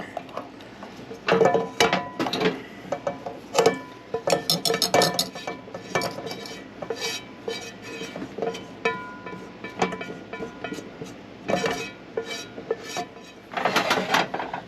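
A utensil scrapes and clinks against the metal pan of an air fryer, working out the leftover chicken gravy in irregular bursts of scraping, tapping and rattling, close up with short quiet gaps between strokes.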